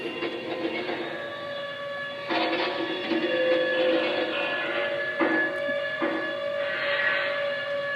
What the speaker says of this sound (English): you will hear brake sounds coming from the reefer car